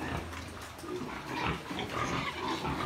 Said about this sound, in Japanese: 9頭の子豚も結構ね順調に大きくなって